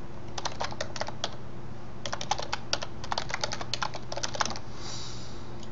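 Quick bursts of typing on a computer keyboard as a web address is entered, clustered keystrokes with short pauses, close and fairly quiet over a steady low hum, with no voices.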